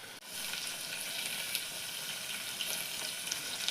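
Potato slices and soaked peas frying in hot oil for veg pulao, a steady soft sizzle throughout with small crackles and pops, heard alone and fairly quiet.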